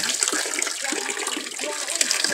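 Water gushes steadily from a water pump outdoors at a house, a continuous broadband rush with no pauses, loud and close, with faint voices barely present underneath.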